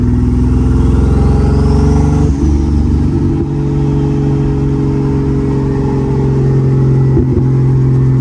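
A big-turbo 2JZ engine in a Nissan 300ZX runs with a loud, steady droning note and a faint rising whine, holding roughly level throughout with no voices.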